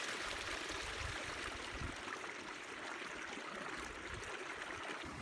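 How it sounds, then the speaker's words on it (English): Water of a creek in a Colorado micro-hydro setting flows beneath a frozen ice crust, a steady broad rushing and trickling wash, faint and continuous with no voices. "The creek itself became a frozen landscape above the flowing waters."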